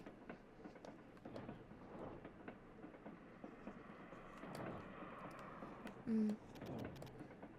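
A train running in the video game Little Witch in the Woods, heard as a low, continuous rumbling with faint rhythmic rattling, steady at moderate volume with a brief tone near the end.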